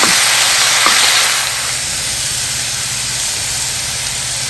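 Beef sizzles in a hot pan for beef and broccoli, a loud, close, hissing sizzle that is strongest at first and eases to a steady softer hiss after about a second and a half.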